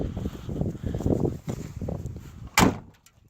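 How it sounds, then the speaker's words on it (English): Shuffling and rustling movement, then a single solid door of a classic Mercedes car thuds shut near the end, followed by quiet. "Classic Merc door shutting sound."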